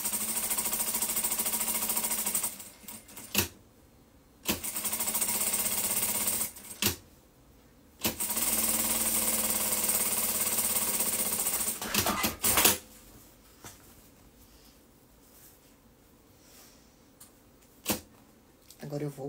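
A sewing machine stitches a seam in rapid mechanical bursts separated by short pauses and clicks, running loud and steady for several seconds at a time, while someone talks between the runs.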